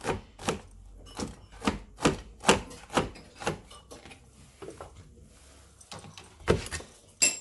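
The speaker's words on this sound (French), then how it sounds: "Nazo kata yango avant to mélanger yango." A knife slicing okra into rounds on a board, a series of crisp regular chops in an even rhythm, close by, with a short pause before a few final cuts.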